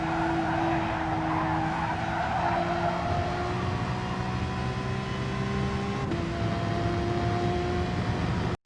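A race car engine at Catalunya in a racing video game holds a rising, steady whine under full throttle, with a gear change near the end and a faint tire hiss beneath.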